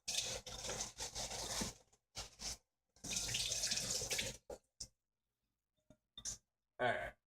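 Tap water runs into a kitchen sink to rinse spinach for a green smoothie, pouring in two long bursts with short splashy bursts between and gaps of near silence.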